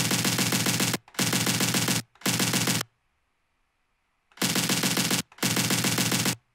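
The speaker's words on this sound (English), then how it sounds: "he used a lot of machine guns." Machine gun sound effects for a deathstep track fire in loud, dense bursts of rapid shots, three in a row, then a pause, then two more.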